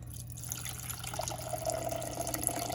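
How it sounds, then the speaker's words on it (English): Black-and-white film developer poured out of a darkroom developing tank through small holes around its side, producing a continuous, fairly quiet trickling gush of liquid without speech. "So I'm gonna pour out my developer, which this has a little holes all over the side of it"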